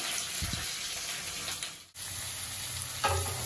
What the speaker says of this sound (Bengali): তেল গরম হয়ে গেছে। এবার আমি পেঁয়াজ দিয়ে দিলাম।